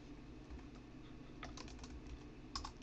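Quiet computer keyboard typing while entering a command: a few soft, scattered key clicks over a low background hum.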